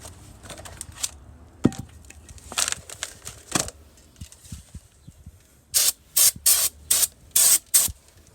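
Brake cleaner sprayed onto the brake parts of a Nissan 370Z during a rotor and pad job: six short, loud hissing bursts in quick succession, up close, after some light handling clatter.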